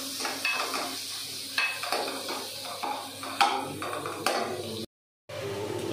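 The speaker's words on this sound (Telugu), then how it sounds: "ఇప్పుడు ఒక ప్యాన్లో ఆయిల్ పోసి కొన్ని ఆనియన్స్, 2 ఆనియన్స్ వేసి మంచిగా బ్రౌన్ కలర్ వచ్చేలాగా ఫ్రై చేసుకోవాలి" Two onions fry in oil in a pan, a close continuous sizzle broken by the scrape and clink of a spatula stirring them at intervals, with one short break in the sound.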